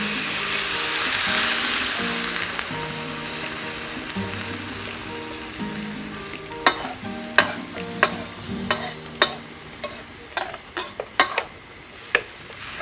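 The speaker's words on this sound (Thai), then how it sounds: "เราก็ ไม่ต้องผัดนานนะครับ เอาให้ตัวเครื่องแกงเราหอมเฉย" Boiled apple snails stir-fry with curry paste in a pan, first a steady loud sizzle that fades, then a run of sharp clacking spatula strokes against the pan, close and fairly regular.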